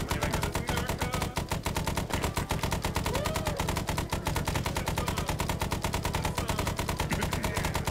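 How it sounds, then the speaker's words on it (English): Sustained automatic gunfire in ArmA 3 S.O.G. Prairie Fire, a rapid, unbroken machine-gun rattle with rhythmic loud cracks lasting throughout, close and dominant. "we're taking shots. Taking fire. Taking fire."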